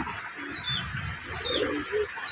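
Pigeons coo softly and close by in rainy weather, making a few low, rounded, burbling calls one after another over a steady background hiss.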